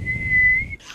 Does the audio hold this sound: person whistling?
yes